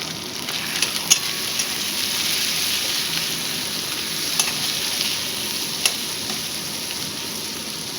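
Tomato with salt and turmeric frying in a pan while being stirred, giving a steady close sizzle with a few sharp spatula clinks and no talk.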